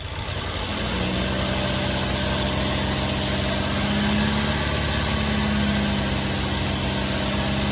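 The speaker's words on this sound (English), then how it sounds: "Step on the gas, please." A 2012 GMC Terrain with the 2.4 engine, suffering reduced engine power and a faulty rail pressure sensor, runs steadily up close, its hum rising slightly as the throttle opens and then holding a sustained, even drone.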